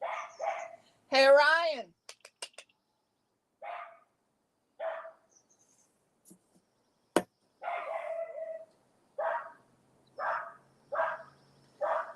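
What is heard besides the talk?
dog barking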